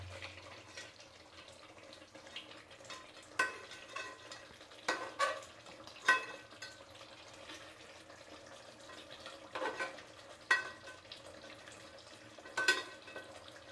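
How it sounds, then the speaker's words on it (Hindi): Champaran mutton roasting (bhuna) in a pot gives a faint, low background with a handful of scattered scrapes and clinks of stirring, and no one speaks. "और मेरे ख्याल से अभी ये भून रहा है"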